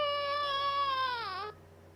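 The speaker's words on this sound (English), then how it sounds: "baby crying" A baby's cry used as a sound effect sample, one long wailing howl that bends downward before cutting off abruptly, fairly faint and with no other sounds.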